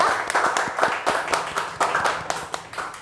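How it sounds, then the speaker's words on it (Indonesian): A studio audience claps in a brisk, close, steady patter of individual hand claps for about three seconds, with no one talking over it. "Boleh tepuk tangannya dulu buat yang di studio maupun yang di rumah."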